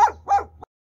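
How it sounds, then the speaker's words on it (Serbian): A dog in a Peruvian canyon gives two sharp barks, then a brief third yelp, close and clear over a faint low hum. "I pakleni kućići. Koji uvek laju."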